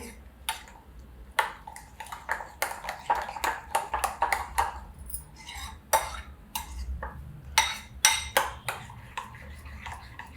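Beaten eggs with onion and salt are mixed in a bowl, giving a close series of quick clinking and tapping strokes from a utensil against the bowl, irregular and steady, with no talk.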